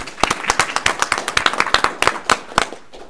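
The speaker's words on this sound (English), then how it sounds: "Let's give them another round of applause." Audience applause at a school board meeting: a small group claps in quick, uneven bursts, fairly close and crisp, over about three seconds with no talk.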